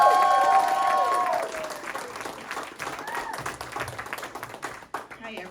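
Audience applause and cheering for a comedian coming to the stage at a comedy show, loudest at first, then continuing as scattered clapping while a voice talks over it.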